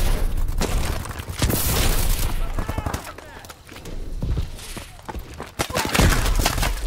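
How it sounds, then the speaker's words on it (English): Bursts of Call of Duty: Advanced Warfare gunfire and booming shots crackle through the mix, mostly under ongoing talk, with several sharp spikes of loud, dense firing. "I hear gunfire."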